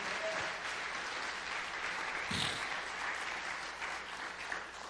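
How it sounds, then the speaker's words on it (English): A church congregation claps its hands together in sustained, dense applause that runs steadily throughout at moderate distance, with no voices rising above it. "Give the Lord a hand clap for that."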